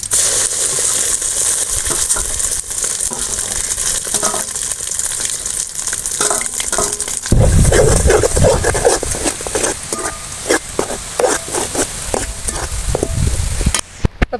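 Ground pirandai thokku paste hits hot oil with mustard seeds, a loud burst of sizzling and spattering midway, followed by irregular crackles and pops and scraping in the pan.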